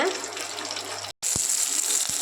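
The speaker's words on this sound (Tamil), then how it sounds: "இந்த வாழைப்பூவில் தண்ணி இருக்கிறதுனால அது அப்படியே சடச்சடன்னு சத்தம் வருது பாருங்கள்" A dense, steady crackling hiss of wet banana flower frying in hot oil, close up, broken by a very brief gap.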